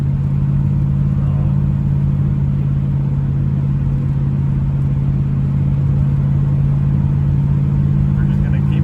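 An AMC Gremlin cruising on the road, its engine holding a steady loud rumble with constant road noise and no change in pace throughout.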